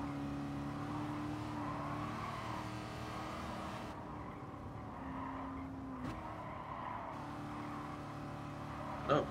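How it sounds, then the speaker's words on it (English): Supercharged Cobra race car engine revving on track, a steady droning roar with shifting pitch, heard from inside or close by and fairly faint, ending in a brief louder bump. "It sounds like it has a supercharger."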